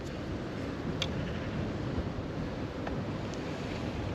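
Wind gusting steadily across an open fishing spot on water, a constant loud rushing buffet against the microphone with faint wave wash beneath, no voices.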